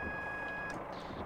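AWS cab warning signal in Train Simulator 2016 on the South Wales Coastal route, a steady electronic tone held for under a second and then cut off, heard over the rumble of the train.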